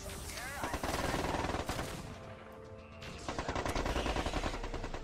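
Mech gunfire in the strategy game MechCommander 2, dense rapid machine-gun bursts and heavy impacts during a patrol battle, loud and nearly continuous with brief lulls.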